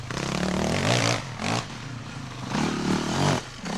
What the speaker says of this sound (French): cette moto est d'une facilité d'utilisation remarquable